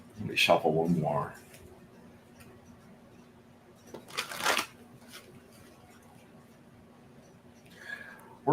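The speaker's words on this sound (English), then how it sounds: "Let me shuffle one more." A deck of tarot-style reading cards shuffled by hand, with a short riffling burst at the start and another midway, quiet pauses between, and faint room tone behind.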